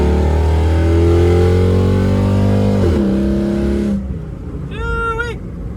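A 5.3L V8-swapped Toyota Prius revs hard with its exhaust cut-outs open, a loud, deep roar that climbs and then drops off as the car moves away; a short shout follows near the end.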